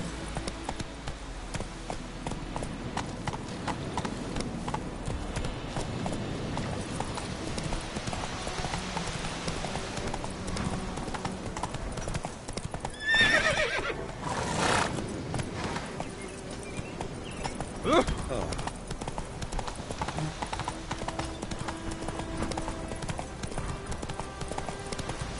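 A horse gallops in The Witcher 3, its hooves a continuous fast clip-clop that holds steady at a fairly loud level, with a couple of brief louder bursts partway through.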